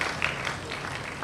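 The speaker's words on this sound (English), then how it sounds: "A round of big applause to the three of them" Applause at a press conference for an awards event, a short spell of scattered clapping from a gathered crowd, fairly quiet and slightly distant, with a couple of sharper claps near the start.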